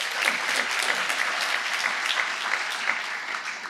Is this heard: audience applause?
yes